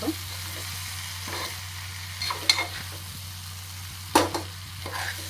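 Okra and prawn curry frying in a pan as ingredients are added and stirred, giving a steady low sizzle with a few sharp scrapes and clinks, close by and with no talk.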